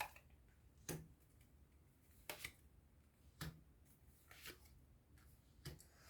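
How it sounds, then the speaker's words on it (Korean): Tarot cards are shuffled and drawn, giving faint, brief papery flicks and snaps every second or so in a very quiet room with no talking. "그럼 지금 당장 여러분에게 어떤 좋은 점 카드도 한번 뽑아보도록 할게요"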